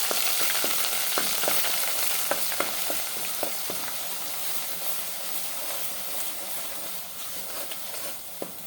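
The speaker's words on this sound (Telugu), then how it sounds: "ఇప్పుడు నూనె, మిరపకాయలు కాగిన తర్వాత ఇందులో ఈ మనం గ్రైండ్ చేసుకున్న ముద్ద వేయాలి. వేసి కొంచెం వేయించాలి." Ground spice paste frying in hot oil with chillies for a fish pulusu, a steady broad sizzle with scattered sharp crackles and pops, close and loud, with no voices.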